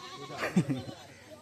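A short, wavering billy goat bleat rises briefly over quiet background noise at a puja, with a voice-like murmur around it.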